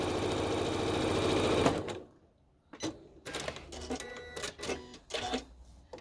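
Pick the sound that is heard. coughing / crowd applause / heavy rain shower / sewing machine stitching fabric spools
sewing machine stitching fabric spools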